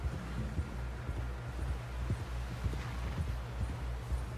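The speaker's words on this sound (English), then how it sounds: "Someone help John down off this horse" Horse riding in the video game Red Dead Redemption 2, a steady rhythmic clip-clop of hooves at a trot over a low rumbling background, continuous and fairly close.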